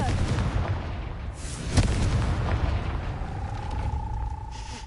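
A Confringo fire spell bursts with a sharp blast in Hogwarts Legacy, a single loud crack near the middle over a steady rumbling game backdrop, followed by a thin rising whistle-like tone.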